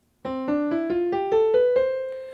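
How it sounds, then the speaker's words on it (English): Eight piano notes climb step by step in an even rhythm, a clear ascending major scale played alone, each note ringing briefly. "a major scale will always sound like this"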